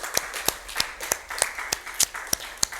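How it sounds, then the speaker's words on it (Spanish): A church congregation claps along, with sharp, evenly spaced hand claps close by over a softer bed of scattered applause, about three claps per second. "Dele un aplauso."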